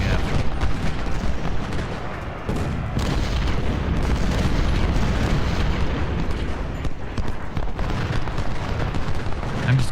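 Massed artillery in the video game Ultimate General: Civil War, at the Battle of Stones River, rolls as a dense, continuous rumble of booms and distant cannon blasts layered over each other, loud throughout with no clear gaps.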